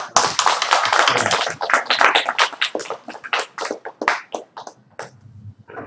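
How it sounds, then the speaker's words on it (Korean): A church congregation claps for the choir after a choral performance, loud close dense clapping that thins out and tapers off toward the end. "성가대회에서 다시 한번 박수."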